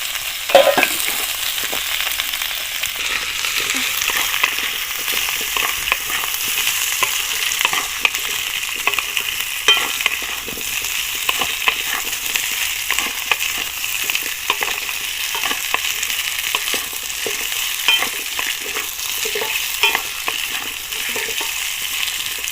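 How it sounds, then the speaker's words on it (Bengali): Fried potato and bay leaf are cooking in hot oil in a pan, giving a steady, dense sizzle with occasional stirring scrapes, close and continuous throughout without any speech. "সামান্য একটু এভাবে তেজপাতটা খুব একটা বেশি ভাজতে হয় না বেশি ভাজলে টেস্ট নষ্ট হয়ে যাবে সেই জন্য আমি ভাজা আলুটা দিয়ে দিলাম"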